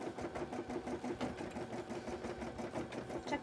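A sewing machine runs steadily while stitching cosplay fabric, giving a continuous fast mechanical whir with a quick rhythmic clatter, close and fairly loud throughout.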